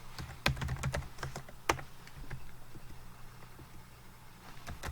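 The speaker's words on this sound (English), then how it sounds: "I'm going to type it all in there as it comes in" Typing on a computer keyboard: bursts of quick, close key clicks with a few louder taps, easing off into quieter, sparser tapping over a faint background hum.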